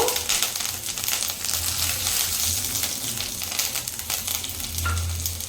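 Curry leaves dropped into hot oil in a pan for a raw mango chutney crackle and sizzle loudly and steadily, with a busy spattering hiss throughout and a few brief clinks.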